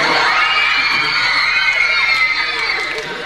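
A concert audience shouts and cheers loudly between songs at a Russian pop show, a dense crowd roar with high whoops that keeps going throughout.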